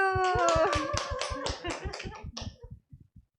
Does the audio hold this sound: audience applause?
yes